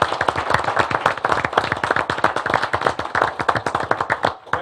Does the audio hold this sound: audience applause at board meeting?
yes